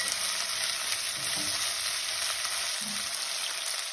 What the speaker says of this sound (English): We're going to saute this until the onions become translucent and semi-caramelized.